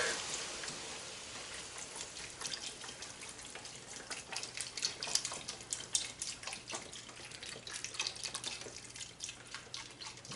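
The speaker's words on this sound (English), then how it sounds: "Before we pour the rest of the ingredients in, which is 32 ounces of beef stock." Beef stock, 32 ounces of it, pours into a stew pot for a ranch stew, giving a steady liquid splashing and trickling with dense dripping detail that runs close and moderately loud for the whole stretch, with no talking.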